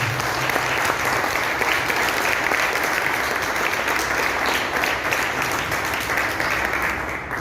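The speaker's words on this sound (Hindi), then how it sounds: "हमारे गुरुओं के लिए एक बार जोरदार तालियां बजाएं।" A crowd applauds loudly and continuously, a dense wash of many hands clapping that holds steady throughout.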